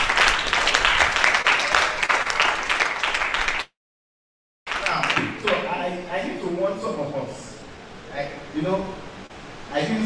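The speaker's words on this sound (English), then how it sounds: "another round of applause." A university project-writing workshop audience gives a round of applause, loud and dense at first, cut by a brief silence, then thinning into scattered claps under a speaking voice.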